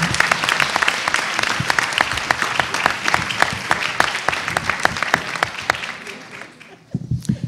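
A school board meeting audience applauds third and fourth grade students with sustained clapping, sharp individual claps standing out over a dense bed, which fades near the end as a few final claps trail off.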